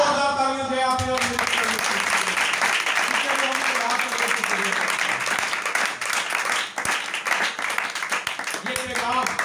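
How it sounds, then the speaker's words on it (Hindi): A church congregation breaks into loud, sustained applause, dense clapping running throughout, while a voice speaks over it near the start. "जोरदार तालियां दें आप लोग"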